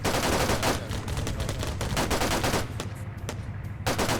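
Dense, continuous gunfire from a Halo video game battle, rapid overlapping bursts and shots sustained throughout at steady loudness, with sharper individual cracks punctuating the barrage.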